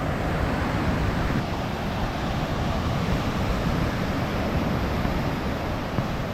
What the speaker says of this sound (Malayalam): ഇപ്പോൾ കുഴിപ്പൻ തിരമാലകളാണ് കുറച്ച് ദിവസമായിട്ട്